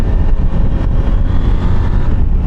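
A KTM 390 motorcycle rides past, its engine a loud, dense, steady roar that fills the whole stretch with little change in level and no voices over it.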